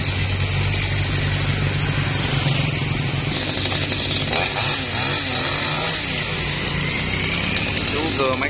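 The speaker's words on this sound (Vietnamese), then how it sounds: "Cưa mấy cái nhánh nhỏ cho nó gớt từ từ xuống nha các bạn." A chainsaw cuts small branches high up in a tree, engine droning loudly and steadily with revving pitch changes, while people talk over it.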